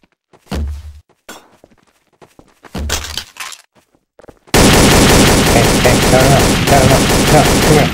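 Dense video-game gunfire sprays out in a long, loud continuous burst that follows a few scattered thuds and impacts, with a voice briefly heard during the action.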